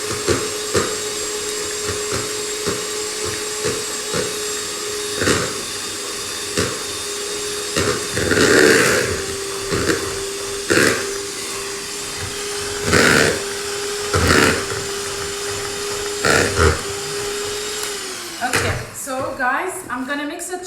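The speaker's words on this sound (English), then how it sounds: "I'm gonna mix it just a tiny bit longer to make sure that the bigger pieces of butter really get mixed and dispersed amongst the dry ingredients" Butter is mixed into dry ingredients for a toffee date cake, a steady motorized hum running under repeated knocks and clatters until it winds down near the end, with talk intermittently over it.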